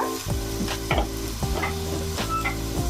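Ginger garlic paste spooned into hot oil with golden fried onions in a pan, frying with a steady close sizzle broken by several bright scrapes and clinks of a spoon stirring across the metal.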